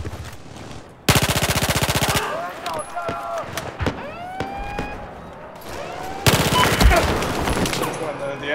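Automatic gunfire in Battlefield 4 on the Altai Range map comes in two long, loud, dense bursts, with scattered quieter in-game effects between them.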